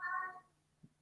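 A single short meow from an elderly 17-year-old house cat, faint and nearby, with a quiet room and a soft thump afterward.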